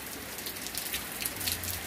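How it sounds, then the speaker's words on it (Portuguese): Heavy rain pours steadily on surfaces in the town of Joaquim Gomes, in the Zona da Mata of Alagoas, Brazil, on an afternoon: a dense, continuous hiss with scattered drip patters throughout. "Neste momento está caindo uma forte chuva."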